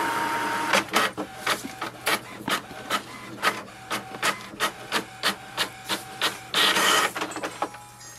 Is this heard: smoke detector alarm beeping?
no